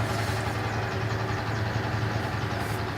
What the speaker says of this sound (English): Like a tractor thing? Yep, it's a tractor.